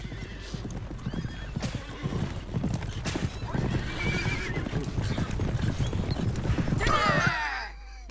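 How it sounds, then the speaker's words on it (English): Many horses gallop in a video game, a dense, continuous rush of hoofbeats, with a whinny rising near the end before the sound cuts off. "Hearing a whole lot of galloping horses"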